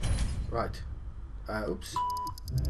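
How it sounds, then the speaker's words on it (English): A phone gives off a short electronic tone and then a quick run of rapid high beeps, under and between a man's speech. "Yes, ignore the beep. Sorry, that's my phone."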